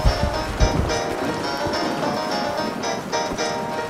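Steady rain in Minecraft falling as a constant hiss and patter on surfaces, even and close throughout with a few soft thumps underneath.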